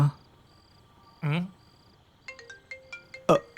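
A short electronic ringtone melody plays in quick tonal beeps, following a brief voice; the tones sound near and fairly clear.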